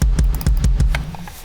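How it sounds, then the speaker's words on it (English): A run of punchy kick drum hits struck with a wood beater lands at a quick, even pace, each with a hard, clicky attack and deep thump, loud and close. "So if we wanna hear the wood beater, it sounds like this."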